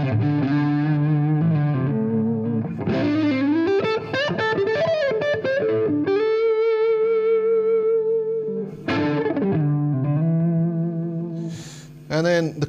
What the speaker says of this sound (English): This isn't an EMG pickup, it's the Fernandez Sustainer, but even as a passive pickup, it does sound sort of quite nice.